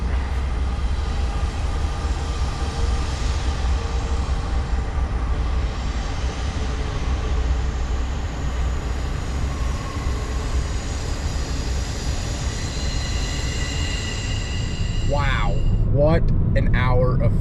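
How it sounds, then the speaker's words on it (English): A train rumbles past steadily close by, its heavy low roar filling the scene from start to finish, with a horn or squealing rising near the end; someone talks over it beside water where fish are feeding. "Here comes the train."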